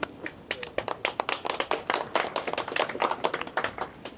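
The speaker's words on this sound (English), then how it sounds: "Please, a big round of applause." A crowd claps in fairly quick, uneven bursts at an outdoor community celebration in Little India, Harris Park, the applause moderately distant and steady throughout.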